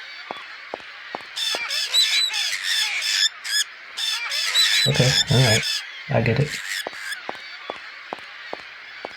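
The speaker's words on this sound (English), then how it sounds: "This must be the birds he was talking about." Birds squawk and honk in the Syberia video game, a flurry of harsh, overlapping calls in bursts over several seconds, with a voice speaking briefly between them.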